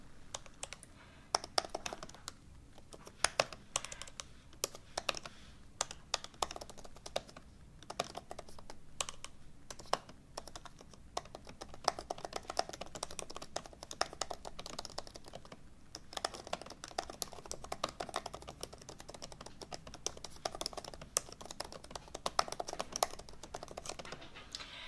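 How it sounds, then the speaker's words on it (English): Rapid, uneven clicking of keys on a laptop keyboard, continuous for the whole stretch, fairly close and fairly quiet. "let's do some typing"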